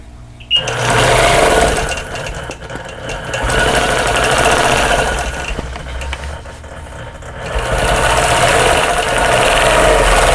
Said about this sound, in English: I'm going to go ahead and stitch in the ditch along this seam.